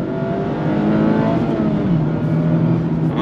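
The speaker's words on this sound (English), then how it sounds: "second gear, on throttle," A 2024 Mazda MX-5 Miata revs out in second gear on a twisty road, its engine note rising and then dropping as the throttle changes, loud and close with no talking.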